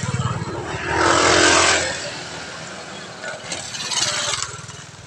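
A motorcycle passes by close, its engine swelling up and fading away, followed by a second, shorter swell of engine noise amid background voices.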